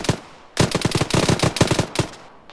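Heavy gunfire in a ShackTac military video game: dense bursts of automatic weapons fire, loud and sustained from about half a second on, with rapid overlapping shots and a few brief pauses.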